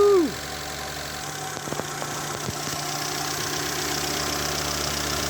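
A car engine runs at a steady idle after being revved to heat it up, a continuous low hum with faint intermittent ticks, fairly close and alone without talk.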